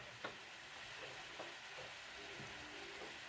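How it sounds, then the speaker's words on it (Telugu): Sugar syrup for jalebi bubbles steadily in a pan, a soft continuous hiss with a few faint pops and clinks near and alone. "చూడండి పంచదార ఉడుకుతున్నది"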